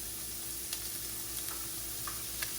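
Ground sausage frying in a pan gives a steady, quiet sizzle with a few small ticks and pops throughout.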